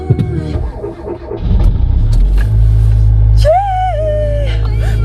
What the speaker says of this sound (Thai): ตอนนี้ก็คือต้องวอร์มรถนิดนึงก่อนเนาะก่อนที่จะออกนะคะ